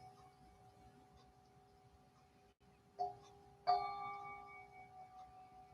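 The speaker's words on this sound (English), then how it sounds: "sound of the bell" A meditation bell rings during a gentle yoga session, two soft strikes with a clear, sustained ringing tone that lingers and fades over a quiet room.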